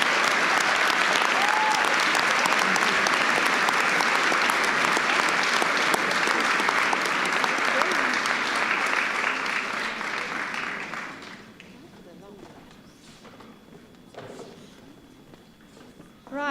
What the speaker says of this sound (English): So a huge round of applause for this.